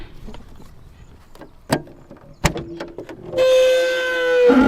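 A car door clunks shut with a couple of sharp knocks, then a steady electric motor whine follows, like a power window sliding, close by and fairly loud.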